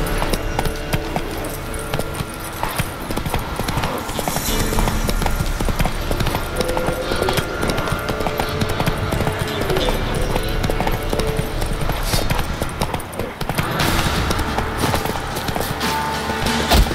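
Horse hooves clip-clop in a steady galloping rhythm in The Witcher 3: Wild Hunt, loud and continuous over game music and ambience, with brief voice sounds.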